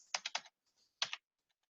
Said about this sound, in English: Now you'll type in your password.